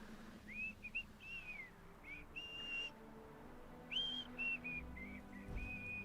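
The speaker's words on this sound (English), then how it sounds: "Those goblins are horrible at whistling." Goblins in the Hogwarts Legacy video game whistle off-key in a series of short, wavering tones, some rising and some falling, in separate bursts over a low steady game ambience.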